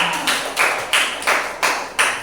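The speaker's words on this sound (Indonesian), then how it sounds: "Oke, kita beri tepuk tangan." Classroom applause arrives as six rhythmic bursts of unison clapping, evenly spaced rounds from a group of students, close and clear with no talk.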